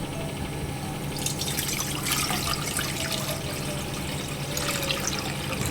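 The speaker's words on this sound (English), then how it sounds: "Then I'm going to put some of my water in there." Water pours into a cooking pot on the stove while making pear juice, a steady splashing and trickling stream that runs continuously, close and moderately loud, with no talking.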